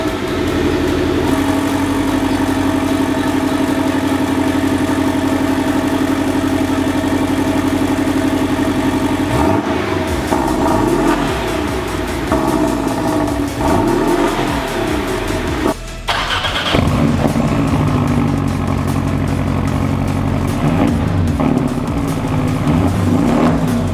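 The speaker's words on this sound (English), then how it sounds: "I'm going to show you guys what this car sounds like now with this new exhaust" A Porsche 718 with a FabSpeed turbo-back exhaust idles steadily with a loud, deep, raspy note, then revs sharply several times, with a brief cut before idling again.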